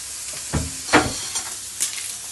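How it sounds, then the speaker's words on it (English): Chopped onions sizzle in oil as they are stirred, a steady hiss broken by a few distinct scraping strokes of the spoon, close by. "Stirring the onions as well. Ensure the oil gets into the onions."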